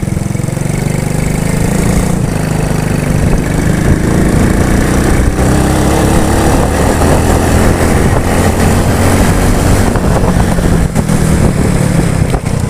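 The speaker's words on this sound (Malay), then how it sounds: "Bila pakai sprocket kecil dia jadi tersedak-sedak" A Honda Wave 100 motorcycle engine fitted with a small sprocket runs loud and close, its low chugging note stuttering and surging unevenly for the whole stretch with no voices over it.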